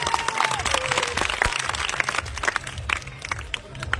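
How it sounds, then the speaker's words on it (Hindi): Vigorous applause and cheering from a large crowd at a political rally welcoming guests, loud and continuous with overlapping claps and shouts, a brief tone or whistle near the start. "सभी हमारे बुजुर्ग नौजवान साथी तालियों के साथ जोरदार स्वागत करेंगे"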